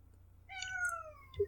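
A studio cat gives a single clear, close meow with a rising then falling tone, followed by a short chirp, against a quiet low hum.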